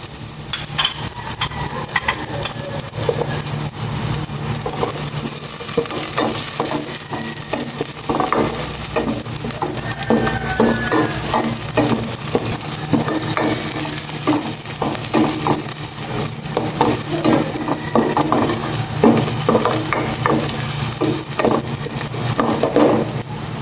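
Chopped onion stir-fries in a pan with a loud, steady sizzle, and a utensil scrapes and stirs through it in frequent light clacks across the whole stretch, with no voices.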